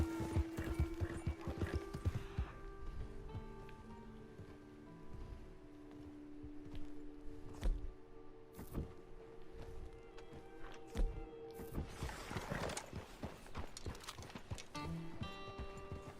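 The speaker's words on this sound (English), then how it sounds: "That's a horse." Horse hooves clip-clop steadily through Red Dead Redemption 2, with a few neighs and whinnies breaking in. The steps stay fairly close and moderately loud over a low ambient hum and faint rain, and nobody speaks.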